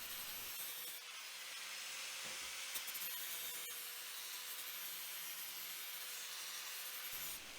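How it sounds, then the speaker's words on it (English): Flap disc on an angle grinder smoothing and rounding the edges of a Kawasaki sign, giving a loud continuous abrasive whine and rasp with brief dips as the disc meets the edge, no talk. "A flap disc on the angle grinder does a good job of rounding the corners and just smoothing out the edges."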